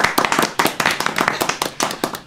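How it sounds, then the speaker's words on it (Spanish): Audience applause at an interview event introducing a studio music producer, a dense burst of many hands clapping close by with uneven sharp peaks, no talk over it. "un aplauso"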